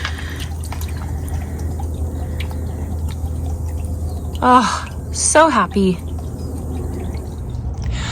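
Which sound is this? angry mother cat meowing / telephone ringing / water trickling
water trickling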